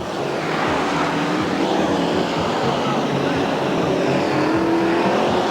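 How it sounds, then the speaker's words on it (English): Stock cars race past in a loud, continuous roar of engines, the rumble steady and full throughout with slight pitch shifts as the cars push on. "this is good stock car racing"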